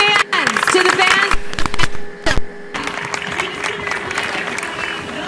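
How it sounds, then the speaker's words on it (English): An interview audience breaks into loud applause with bursts of clapping and crowd noise, rising and falling over a few seconds while voices talk over it. "we all clap for you guys"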